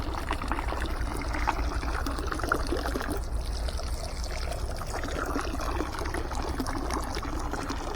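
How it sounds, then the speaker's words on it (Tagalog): Water runs steadily into a canal in a continuous pouring trickle, a constant broadband wash that holds an even level throughout, close by and with no one talking. "Tulo lang ng tulo yan."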